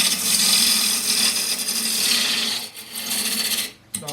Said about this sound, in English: So still with a 1/2 inch spindle gouge,